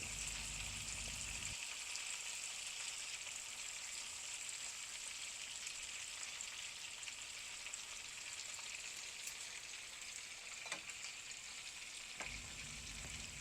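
Chicken sizzles steadily in a hot frying pan, a continuous crackling hiss with a few brief clacks, no voices.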